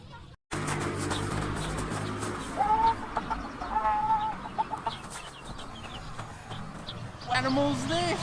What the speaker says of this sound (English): Look at these beautiful little chickens.